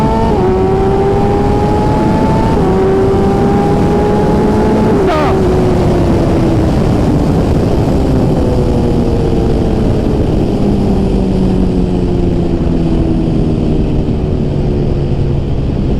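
A 2008 Suzuki GSX-R 1000 with an M4 GP full exhaust and a broken muffler welding bracket accelerates hard and loud, pitch climbing through several gears with wind roar and no full throttle.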